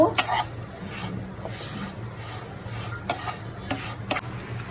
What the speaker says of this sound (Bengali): এটাকে ভালোভাবে ভাজা ভাজা করব।